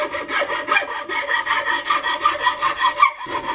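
A coarse half-round file rasps across the wooden stock of a Gemmer Hawken rifle kit in a steady rhythm of about a dozen close back-and-forth strokes, with a brief pause near the end.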